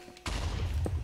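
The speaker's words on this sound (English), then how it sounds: "Finally! Something exploded somewhere." A single sudden blast in Minecraft, a loud sharp burst that cuts in and leaves a dense rumbling roar carrying on for about a second.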